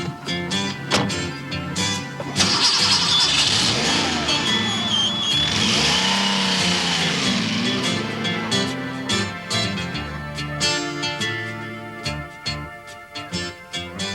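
A 1989 Porsche 959 engine runs loud and close throughout, swelling steadily as it revs and pulls away, with rising and falling engine tones and no speech.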